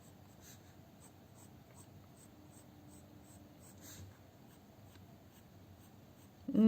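A pencil sketches an eye outline on paper with steady, faint scratching strokes that run continuously and close, and a louder bump comes at the very end.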